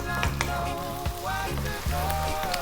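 Cumin seeds and onion frying in sunflower oil over above-medium to high heat for veg fried rice, a steady loud sizzle broken by a few scraping stirs, with no talking.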